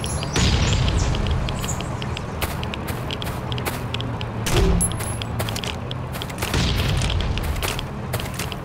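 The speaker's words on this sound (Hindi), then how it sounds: "इसको ग्रेनेड लॉन्चर पर कोई भी डैमेज नहीं पड़ रहा" A grenade launcher fires at a tank in the Last Island of Survival video game, producing several heavy booming blasts over a steady rumbling background, with sharp clicks scattered throughout.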